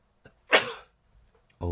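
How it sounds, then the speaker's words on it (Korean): A single sharp, close cough stands out from near silence, with a faint click before it and the start of a voice at the very end. "정지시키고 기침 좀 해야 된다"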